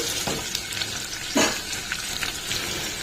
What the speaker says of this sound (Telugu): ఈ ఆనియన్స్ కూడా కొంచెం వేగే వరకు వెయిట్ చేద్దామండి